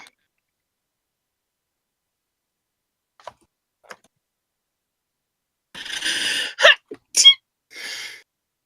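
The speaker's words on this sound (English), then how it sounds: "I've got to sneeze though." Close up, a breathy build-up is followed by a sharp, explosive sneeze and a couple of short exhalations, with no talking around it.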